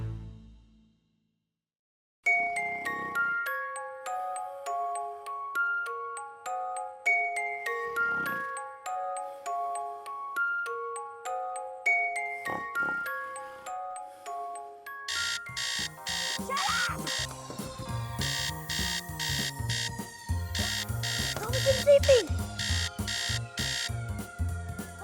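A grenade-shaped alarm clock rings with a repeating electronic tone melody that shifts into a harsher, denser pattern of beeps partway through. It plays loud and close and continues alone, with no talking.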